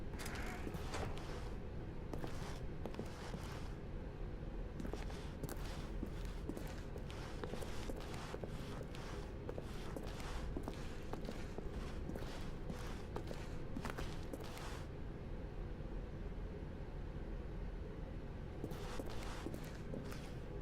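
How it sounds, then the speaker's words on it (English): Footsteps walk steadily across a floor in The Stanley Parable video game, a continuous run of close, regular steps with occasional creaks, pausing briefly near the end before resuming. "Stanley walked through the red door."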